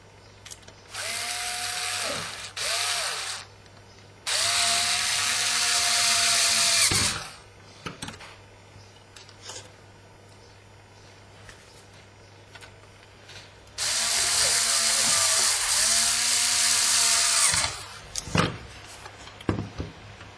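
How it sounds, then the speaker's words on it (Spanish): A power screwdriver driving four screws into a PlayStation 2 hard drive case, whirring in several bursts of a few seconds each, with quiet handling clicks and pauses in between. "Colocamos los 4 tornillos."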